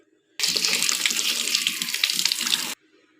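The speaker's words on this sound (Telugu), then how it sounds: "బాగా వాటర్ ఎక్కువ వస్తుంది" Water runs from a tap in a steady, close gushing stream for about two seconds, starting and stopping abruptly, with quiet before and after.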